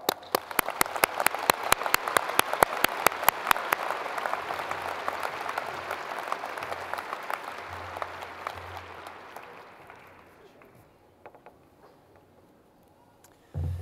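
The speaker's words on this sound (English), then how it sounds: "let us applaud" Applause from a graduation ceremony audience, starting with crisp, rapid nearby claps over a dense crowd wash that slowly fades to scattered claps and near quiet.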